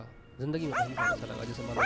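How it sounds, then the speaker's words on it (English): A dog barks three or four times at mid distance, the sharp yelps spaced irregularly and heard under someone talking in Hindi. "I thought that was a dog barking."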